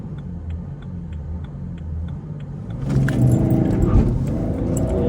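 A 3.0-litre BMW E90 3 Series idles with a steady engine hum and light ticking inside the cabin, then the engine note swells louder as the car accelerates hard.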